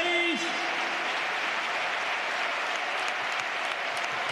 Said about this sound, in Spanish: la ovación del estadio a Dani Ceballos